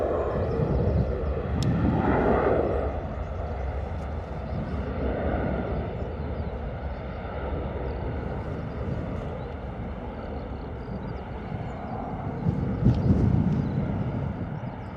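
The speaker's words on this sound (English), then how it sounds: "waiting for this Ryanair 737 to depart runway 27" A Ryanair Boeing 737 departs runway 27 at Bristol Airport, a steady, broad jet-engine roar that holds strong for the whole stretch, swelling slightly near the end, with wind buffeting the microphone.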